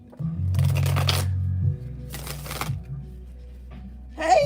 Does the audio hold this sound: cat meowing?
no